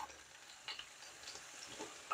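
Faint, steady sizzling of fish frying in oil, with soft crackles and pops scattered throughout and no voices.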